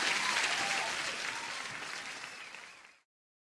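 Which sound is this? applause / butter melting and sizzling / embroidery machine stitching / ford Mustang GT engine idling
applause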